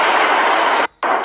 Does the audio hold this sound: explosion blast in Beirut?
yes